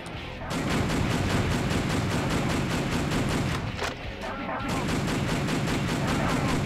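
Sustained, rapid light-firearm gunfire in Metal Wolf Chaos XD, loud and continuous, with bursts that briefly let up midway before the shooting resumes at full intensity.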